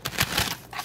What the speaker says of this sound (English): now the cards are shuffling just fine and dandy